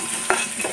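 Garlic hits hot oil with a short crackling sizzle and a quick stir, brief and close, with no talking.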